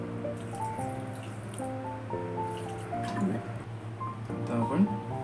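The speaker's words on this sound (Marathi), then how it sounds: "थोडंसं पाणी आपण ॲड करून घेऊया." Water is poured into a mixer jar holding masala for a Goan oyster gravy paste: gentle drips and trickling splashes over steady tonal background music.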